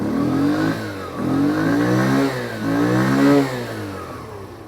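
A Lexmoto Aspire 50cc scooter from 2020 already warm, its small engine revved three times in rising and falling sweeps, loud and close, with no talk.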